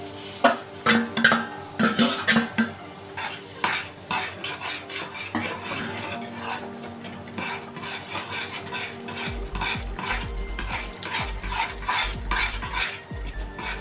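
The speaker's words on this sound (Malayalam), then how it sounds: "റവ ചേർത്ത് കട്ടയില്ലാതെ നന്നായിട്ട് നമ്മൾ ഇളക്കി യോജിപ്പിച്ച് അങ്ങ് ചേർക്കണം ഈ വെള്ളത്തിനൊപ്പം" Semolina stirred into boiling water in a pan for sweet kesari: a close, loud burst of metal spoon clatter against the pan, then continuous stirring and bubbling, with no voices.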